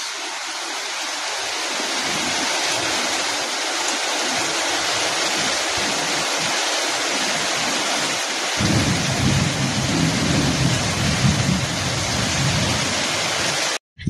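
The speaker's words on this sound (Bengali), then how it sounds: "বৃষ্টি কিন্তু এখনো কমেনি, ঝিরঝির করে বৃষ্টি পড়ছে" Heavy rain pours in a continuous broadband hiss, and about halfway through a deep roll of thunder rumbles beneath it before cutting off abruptly.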